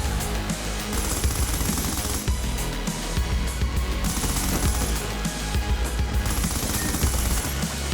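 LSAT light machine gun firing in a multiplayer video game match, continuous rattling bursts mixed with other game sounds and background music, loud and sustained.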